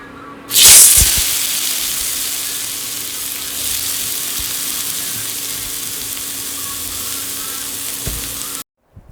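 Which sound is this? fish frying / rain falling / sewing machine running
fish frying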